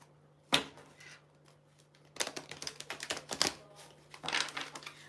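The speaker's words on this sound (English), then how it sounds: "Let's give the deck a good shuffle." Quick bursts of a tarot card deck riffling and flicking together, a short snap followed by two longer rustling shuffles with pauses between, close and fairly quiet.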